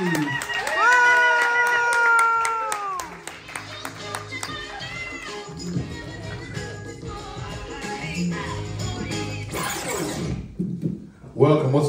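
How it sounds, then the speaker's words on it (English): A comedy show audience claps and cheers in a crowded venue, a loud rolling wash of applause and shouts under a host's amplified voice. "make some noise, you already clapping"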